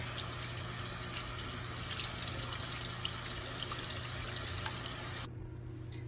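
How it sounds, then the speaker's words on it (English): Warm tap water runs steadily over laser-engraved glass to rinse off paint, a constant close hiss of flowing water that drops away near the end. "So I'm gonna wash the paint off with some warm water."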